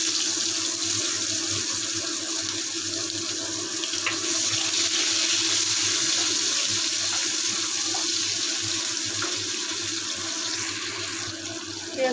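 Onion frying in oil tempered with whole cumin and a bay leaf produces a constant, even sizzle, dense and unbroken throughout, with no voices.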